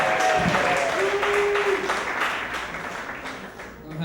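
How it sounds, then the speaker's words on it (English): Audience at a stand-up comedy show claps steadily, a dense continuous patter of hands that fades slightly toward the end, with a voice and a brief tonal sound heard over it. "Keep clapping, everybody."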